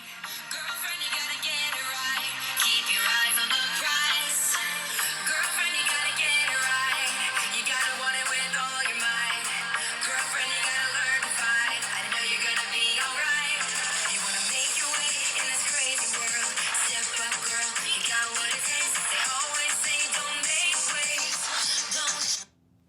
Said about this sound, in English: you're gonna have to excuse the bad music, but it's not copyrighted